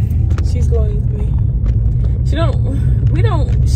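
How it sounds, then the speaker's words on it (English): Cabin rumble inside a car carries a steady low engine and road drone throughout, with people talking and laughing over it. "Okay, guys, we're in the car."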